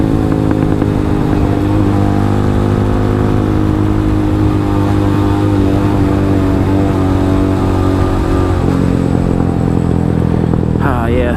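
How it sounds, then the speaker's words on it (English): Suzuki DF250 motorcycle engine pulling hard in second gear, a loud, continuous mid-pitched drone that climbs steadily in revs and drops off near the end, heard close and alone without talk. "this thing still gets up. That's second gear."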